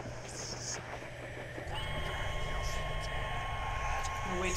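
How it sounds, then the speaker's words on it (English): Train passing by in a game setting, heard as a steady rumbling roar with a sustained tonal whine that swells partway through, mixed with rain-like hiss and a voice talking over it. "I'm gonna wait till the train goes by."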